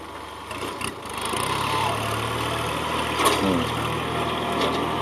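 A Kubota L3608 tractor, a small 36 hp three-cylinder machine with a rake attached, runs steadily in a field, its low engine drone holding close and even with a few brief knocks and rattles over it.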